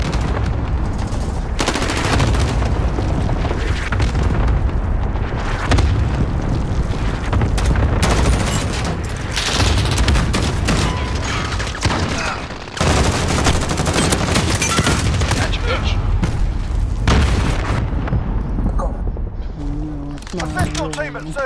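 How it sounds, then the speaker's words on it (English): Video game cluster strike explosions boom and rattle in dense overlapping bursts mixed with rapid gunfire, loud and continuous, while players talk excitedly over the chaos. "Allied cluster strike inbound."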